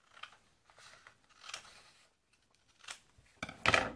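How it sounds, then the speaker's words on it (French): Scissors cut a paper heart in two in a classroom craft activity. Several short, crisp snips are spaced apart, ending in a louder cluster of cutting sounds close by. "Et on va couper ce cœur en deux"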